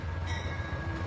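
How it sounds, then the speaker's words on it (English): A long express train rolls past steadily, a continuous low rumble of wheels on rails with a faint high whine, close and fairly loud with no voices. "Yes, it's an express train."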